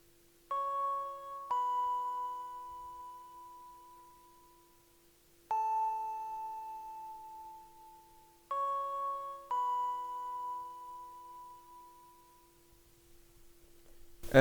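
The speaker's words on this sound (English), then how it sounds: "preset name of this bell is Bell 8" Bell 8 preset bell from Xenology accenting a soul sample's chord progression, with clear chime-like strikes in pairs that ring out and decay, over a steady low tone.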